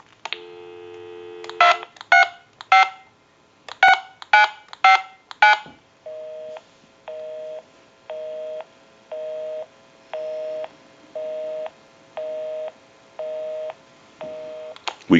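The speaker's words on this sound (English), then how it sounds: "We'll call my number and it'll be busy." A rapid series of telephone keypad tones dials a number on a converted Porsche 928 car phone, followed by a busy signal beeping in even, repeating pulses.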